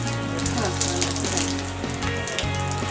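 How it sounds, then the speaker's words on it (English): Water from an outdoor shower runs in a steady, close hiss that spatters continuously throughout, with only faint voices beneath. "Let's go use the shower. Alright. Outdoor shower."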